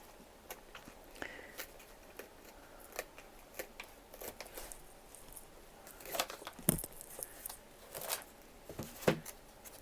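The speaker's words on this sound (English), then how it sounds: "you can just take your fingers and tear" Excess watercolour batik paper torn by hand from a canvas edge, soft scattered rips and crinkles at close range, growing louder and denser toward the end, with no talk.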